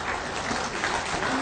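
An audience applauding at a government appointment letter ceremony, dense steady clapping from a crowd that continues without a break.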